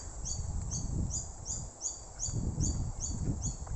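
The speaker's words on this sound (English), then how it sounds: "I'm sure you can hear the birds." Faint birds chirp in a quick repeating pattern, high and thin, over a soft low background rumble outdoors.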